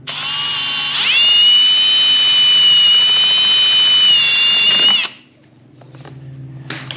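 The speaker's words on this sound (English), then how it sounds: "So what you can do is take and drill the hole again." A power drill whines loudly at high speed for about four seconds, rising in pitch as it starts, then cuts off into quiet room noise, drilling a hole in a C3 Corvette's window assembly.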